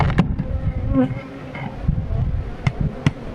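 Honey bees buzz at a hive during an inspection, a dense, steady insect drone close to the microphone with a few sharper passes of individual bees.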